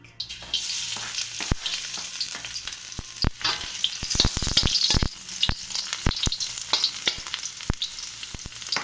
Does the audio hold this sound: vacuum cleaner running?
no